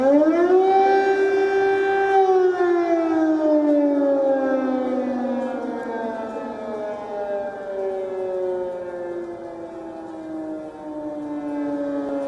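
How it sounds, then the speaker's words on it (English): Air raid civil defense sirens wail over Kyiv at night, a loud sustained tone that slowly falls in pitch and keeps droning on, with no talk. "Sirens in Kyiv continue to ring through the night."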